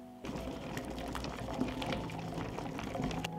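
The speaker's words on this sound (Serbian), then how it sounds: "od momenta kada voda proključa, smanjite temperaturu, pustite da voda samo struji" Water simmers in a pot on the stove around glass jars being pasteurized, a soft, continuous bubbling and rattling that starts abruptly and carries on steadily at close range with no voices.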